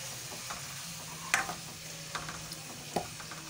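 Chana dal with tomatoes stirred in a sizzling pan, a low steady frying hiss broken by several sharp spoon scrapes and taps against the metal, close up and without talk.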